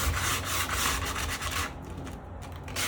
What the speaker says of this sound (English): just bend the sandpaper like this, go a few times over it